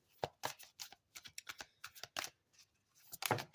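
A Moonology oracle card deck is shuffled by hand in a series of quick, crisp riffling and slapping bursts, close and quiet, with no voices.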